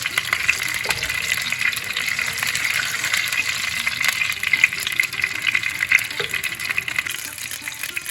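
Chili frying in hot oil in a home kitchen, a steady, dense sizzle that runs continuously without pause, fairly close and even in level throughout.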